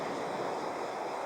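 Ocean waves and surf make a steady broadband wash with wind, close and constant, with no distinct breaks and no voices.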